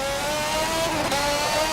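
Renault RS17 Formula 1 car engine in the racing game Forza 7, a loud, steady high-pitched whine at sustained revs, alone without talk.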